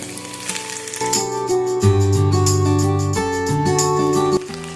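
Capsicum and onion for chicken chowmein are stir-fried, giving a continuous hissing sizzle that sits under loud tonal music for the whole short stretch.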